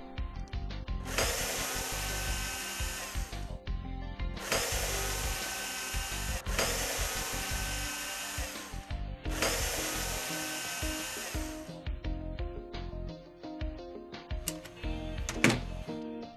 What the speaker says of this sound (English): Replace the 4 screws, 1 in each corner.